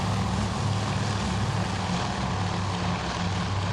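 Droning propeller engines of WWII torpedo bombers in the carrier simulator Task For Admiral, a steady, loud, unbroken roar with a low throbbing hum and no other sounds.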